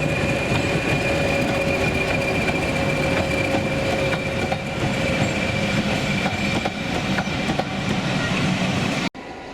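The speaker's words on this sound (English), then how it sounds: "The Harry Needles Class 20 then heads south to Bury." A Class 20 diesel locomotive rolls past at a heritage railway heading south toward Bury, a steady loud rumble with rail clatter and a faint wheel whine continuing throughout before cutting off abruptly near the end.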